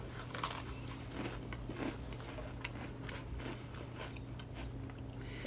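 Crunchy bites into a dry toffee Oreo cookie come close to the mic as several sharp crackling crunches, then quieter chewing over a low steady hum, with no talk.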